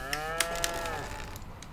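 Cows moo in the Farming Simulator 25 video game, one long, drawn-out, tonal moo followed by a few brief clicks and softer sounds, moderately quiet and with no speech over it.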